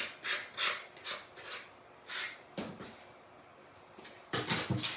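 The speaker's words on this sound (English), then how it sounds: "it's just easier to sand it, honestly." Sandpaper rasps against a wooden craft banner in quick rhythmic strokes, a few bursts of back-and-forth rubbing separated by brief pauses, close and fairly loud.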